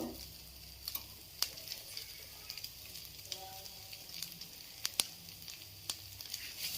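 Soft, low sizzling of fish pieces frying in oil, fairly quiet, with scattered clicks and small pops throughout.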